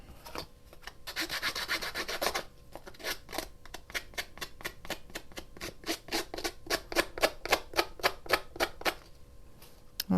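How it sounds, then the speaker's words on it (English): The flat edge of scissors scrapes along paper to distress it for a junk journal pocket, a close, dry rasping in a quick burst followed by a steady run of short rhythmic strokes. "going around with my scissors and taking that flat edge, and I'm just distressing it a bit"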